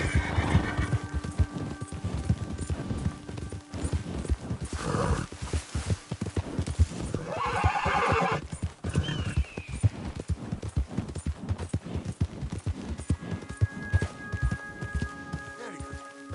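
A horse gallops in Red Dead Redemption 2 with rapid, steady hoofbeats close by, broken by a few whinnies and snorts along the way.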